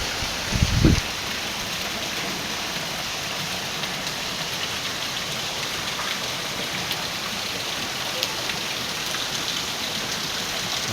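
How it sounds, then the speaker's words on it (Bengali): Heavy rain pours steadily outside a temple, a dense even hiss of drops hitting the ground and flooded road, with a brief thump near the start. "সকাল থেকে অঝরা বৃষ্টিতে"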